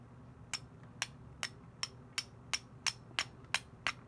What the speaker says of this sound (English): basic old time flint and steel way